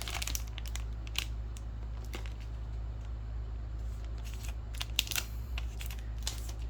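A resealable plastic comic slab bag has its adhesive strip peeled away, giving a run of close, crackly crinkles and sharp tearing ticks over a steady low hum, with no one talking.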